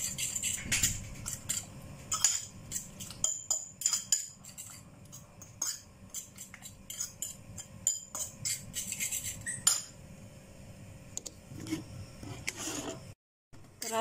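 A utensil stirs and mixes ingredients, including crab stick and onion leaf, in a bowl, with a steady run of close metallic clinks and scrapes against the bowl's sides.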